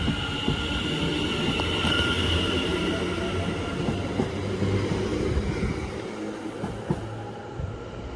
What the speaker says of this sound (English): And the short whistle as it moves over now